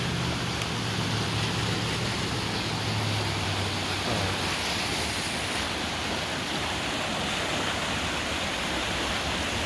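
A very flooded creek rushes in a loud, continuous, broadband roar of water that holds steady and close throughout, with no talking.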